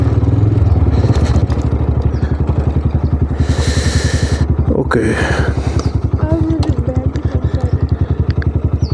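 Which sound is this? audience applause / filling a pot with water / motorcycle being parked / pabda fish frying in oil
motorcycle being parked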